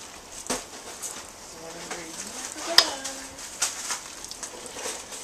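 Meatloaf ingredients stirred together in a bowl, with scraping and clinking of a utensil against the bowl, moderately close, plus a soft background hum.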